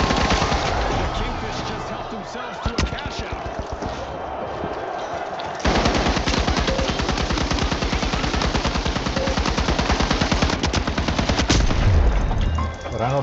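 Automatic gunfire in the online shooter The Finals rattles almost continuously in long, dense bursts with a loud, close, mechanical beat, under occasional talk from players.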